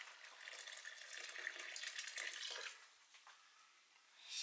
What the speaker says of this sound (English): I'm going to add a little more water to that